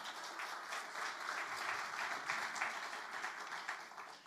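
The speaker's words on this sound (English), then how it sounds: "Yeah, you can clap." Faint, steady audience applause at a Felix Cavaliere Q&A event, sustained dense clapping through the whole stretch without pause, somewhat distant and soft.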